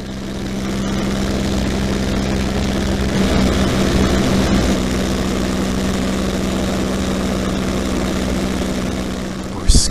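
A P-51C Mustang propeller fighter in flight, heard from inside the cockpit as a loud, steady low engine drone and prop hum filling the whole stretch, with a brief thump at the end.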